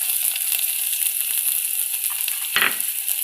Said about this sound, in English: Now we will add our onions into this.